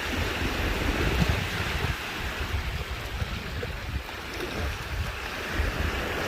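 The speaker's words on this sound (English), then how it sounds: "the wind continually caresses the water to create waves that come ashore." Ocean waves washing ashore at a seashore, a steady broad roar of surf with gentle swells in loudness and some wind, with no voices.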